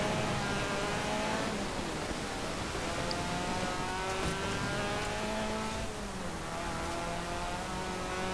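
A racing car engine in Forza Horizon 4 during a seasonal championship race, droning and climbing steadily in pitch as it accelerates through the gears, loud and continuous with no break.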